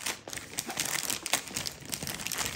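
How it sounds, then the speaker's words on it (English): Crisp, irregular crinkling of a plastic bag holding a diamond painting kit during an unboxing, close and bursty over a couple of seconds with no voice. "It comes in this really nice plastic bag here."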